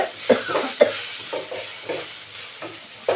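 Four or five crushed garlic cloves hitting a hot pan for a tuber dish, with a steady sizzle and several sharp pops and stirring scrapes spread through the sizzle.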